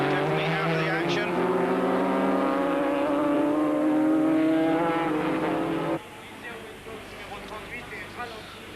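Historic racing cars at the Montlhéry circuit near Paris in 1991 give off a sustained engine drone with several harmonic tones under a commentator's voice, then cut to a quieter, distant engine hum.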